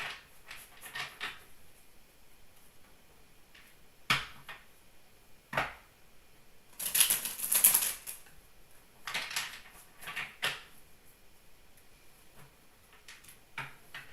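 Several bursts of crisp papery riffling and soft slaps of tarot cards being shuffled, scattered across a quiet room, with one louder flurry midway.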